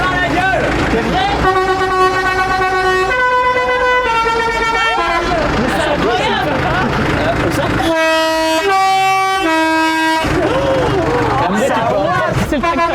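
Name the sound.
horns being sounded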